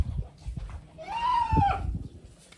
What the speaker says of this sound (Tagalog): Ay, may kambing din sila dito